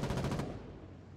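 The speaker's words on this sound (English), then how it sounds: "Burst fire." A short burst of automatic gunfire in the war game Foxhole, a rapid string of loud shots in the first half-second followed by a fading rumble.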